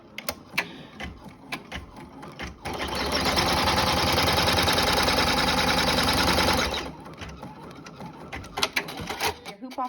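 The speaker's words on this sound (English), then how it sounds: "And we're gonna stitch it." A sewing machine stitching fast-dry towel fabric runs in one steady, loud burst of about four seconds in the middle. Brief handling noises and a speaking voice come before and after the run.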